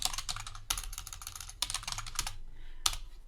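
Rapid keystrokes on a computer keyboard as a folder name is entered, with clustered clicks and short gaps, close and clear with no talking.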